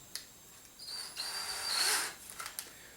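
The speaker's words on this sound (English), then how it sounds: "we're going to drill through the cardboard and the plastic" A small drill with a 3/32 bit bores through a cardboard body tube and a plastic rocket nose cone, a rising high-pitched whine lasting about a second with light clicks before and after.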